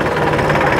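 Massey Ferguson 254 DynaTrack tractor diesel engine running steadily in high gear, a close, continuous low rumble with even mechanical vibration throughout, no talk.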